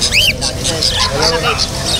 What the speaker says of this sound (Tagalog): Ito parakit to